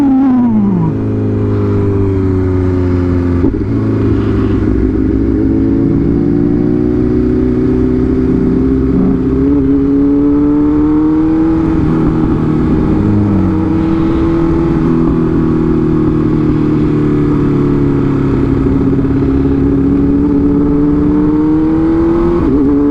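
A BMW motorcycle engine runs steadily while riding, a continuous loud mid-pitched drone with gentle rises and falls in revs throughout and no speech.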